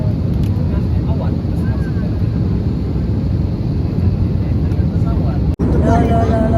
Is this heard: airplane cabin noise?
yes